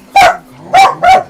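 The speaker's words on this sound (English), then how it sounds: "The alarm dog is going" A dog barks three times, loud and close, in quick separate bursts as guests arrive indoors.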